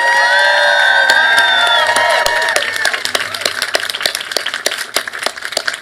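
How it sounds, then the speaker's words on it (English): A large crowd at an outdoor vigil outside the US Supreme Court cheers and whoops loudly, then settles into sustained clapping that continues to the end. "Let's give one more big round of applause"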